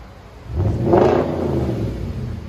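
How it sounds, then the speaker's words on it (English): A 2010 Audi S5 coupe's 4.2L V8 with a muffler-delete dual exhaust, revved once from a deep idle into a loud, close roar that holds near the top before settling back to a rumbling idle. "Again, rev it up a little bit higher."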